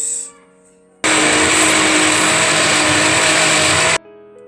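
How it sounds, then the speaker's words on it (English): A blender blending spinach roars at full power for about three seconds, a dense, loud whir that starts and stops abruptly against a quiet room. "Blend it until it's smooth."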